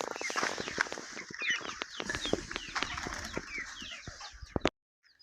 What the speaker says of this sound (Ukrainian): Ой, яка цікава маленька курочка.